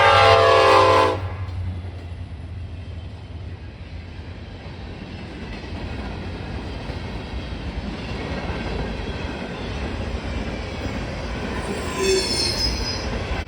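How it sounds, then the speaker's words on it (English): An eastbound ballast train led by an SD70 locomotive passes close by on the NS Cleveland Line. A horn blast opens it, then a steady rumble of wheels and wagons follows, with squealing toward the end. "That train proved to be an eastbound ballast train with an SD70 ICC"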